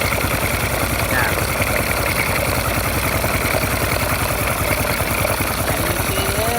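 A rebuilt Honda motorcycle engine idles nearby with a steady, rapid pulsing thump. A voice talks over it.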